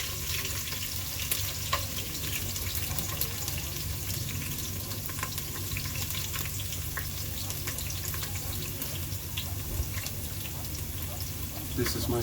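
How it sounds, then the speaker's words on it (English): Onions frying in a pot as the base of a Ghanaian cabbage stew, a steady broadband sizzle running throughout at moderate level with faint stirring clatter and a low kitchen hum beneath. "now the onions are going in there. I always put a little bit to fry first."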